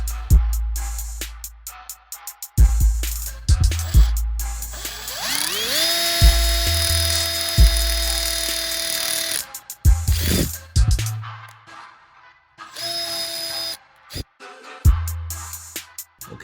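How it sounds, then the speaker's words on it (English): Power drill driving into a ceiling, spinning up with a rising whine into a steady high-pitched drone for several seconds, then stopping; shorter bursts follow among knocks and handling clatter. "So let me drill into here and we can secure both sides."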